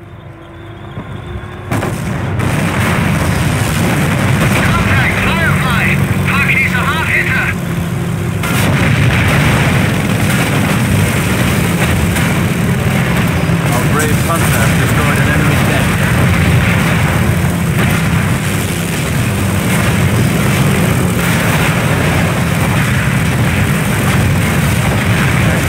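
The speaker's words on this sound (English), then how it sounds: "With this ability, Henschel aircraft will fly by the target location, targeting all enemies within their flight path." A Henschel aircraft airstrike in Company of Heroes rolls on as a loud, continuous roar of artillery-like fire and gunfire, with engine drone and dense overlapping blasts sustained for the whole stretch.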